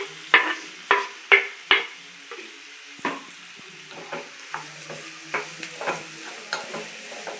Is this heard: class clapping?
no